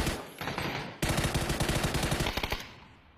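Rapid automatic gunfire in a PUBG esports match, with a short burst, a brief pause, then sustained loud repeated shots during a jump-shooting fight, no talk over it.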